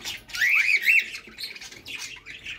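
Nesting birds squawk in short, harsh bursts at close range, a few calls running together over a quiet background with no talking.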